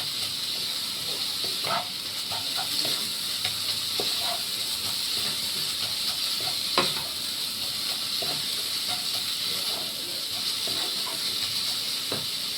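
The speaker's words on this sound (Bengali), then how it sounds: "ভাজা ভাজা প্রায় হয়ে গেছে" Food frying in a pan while cooking at home, a steady close sizzling hiss running throughout with scattered sharp crackles and pops, no talking.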